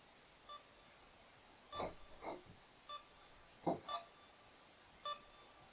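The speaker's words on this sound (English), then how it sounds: "all that can be heard is the beeping of the controls. The beep slowly getting louder and louder as the scene drags on" Control panel controls beeping: short electronic beeps repeat at irregular intervals, some doubled, fairly faint over a quiet hiss.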